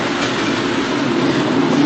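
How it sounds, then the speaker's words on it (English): A U-Bahn train pulls out of a station on the line to Oberursel-Hohemark, a loud, steady rumble of wheels and carriages close by, with no voices. "so we've missed the train"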